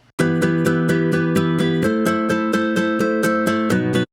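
Steady, even nylon-string guitar strumming alternating down and up, about five strums a second, each stroke bright and ringing, played close and loud with no voices.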